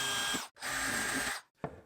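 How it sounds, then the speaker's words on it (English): A power drill driving screws into a wooden miter saw station, two close whirring bursts with a brief pause between, then a short tap as the drill stops. "Once clamped, I'm just going to drill in where I want those screws to be."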